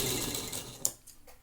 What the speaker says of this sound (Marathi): आता मी पुन्हा एक शिलाई मारून घेते, म्हणजे पक्की शिलाई होण्यासाठी मला डबल शिलाई मारायची सवय आहे.